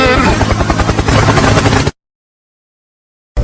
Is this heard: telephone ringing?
no